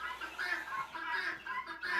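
Farm birds cluck in a series of close, fairly loud bursts, several overlapping calls repeating without pause, with no speech over them.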